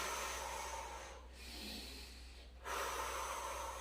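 Heavy breathing during a pregnancy strength workout, a loud sharp exhale or snort-like breath, a brief pause, then another strong breath, close to the microphone with no talking.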